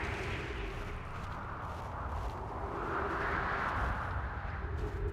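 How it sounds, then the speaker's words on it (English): A planet under constant meteor bombardment in Outer Wilds, heard as a dense, continuous roaring rumble of distant impacts and blasts that swells slightly partway through, with no talking. "this planet, or this body, is just being bombarded by these, like, meteors"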